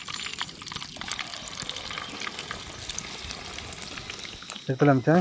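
Chicken 65 frying on a street-stall tawa in Madurai, a continuous close sizzle and bubbling, with a voice breaking in at the very end.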